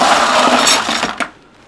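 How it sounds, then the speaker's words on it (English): Trimmed and chamfered brass cartridge cases pour into a bucket in a loud, close metallic jangle that lasts about a second and then stops abruptly. "I'm going to put it in the bucket here."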